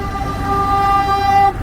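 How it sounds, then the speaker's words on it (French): Car horns honk here and there in a street in Abobo or Yopougon, Côte d'Ivoire, during an Ivory Coast football match, a long sustained toot standing out over a steady bed of traffic and crowd noise. "klaxonne ça et là."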